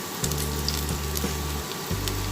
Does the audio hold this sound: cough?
no